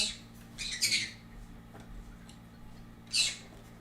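A pet bird gives a few harsh, loud squawks in short bursts, one pair early and another near the end, over a low background hum.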